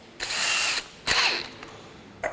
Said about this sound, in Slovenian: dam to v vrtalni stroj,